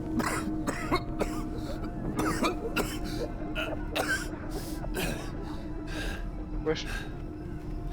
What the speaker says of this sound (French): Arrête de tousser toi.